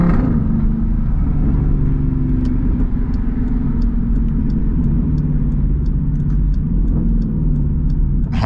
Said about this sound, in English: Telling y'all, not a car sound crazier from the outside.